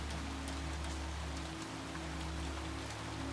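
Rain falls steadily outside a countryside garden potting shed, a continuous dense patter and hiss with no voices, over a faint low hum.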